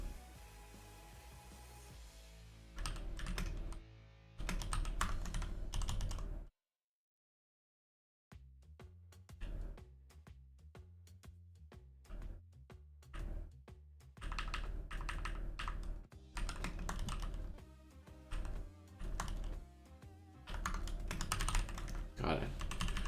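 Bursts of clattery keystrokes on a computer keyboard while coding a turn system for a horror roguelike, loud and close, arriving in uneven runs with one brief silent gap.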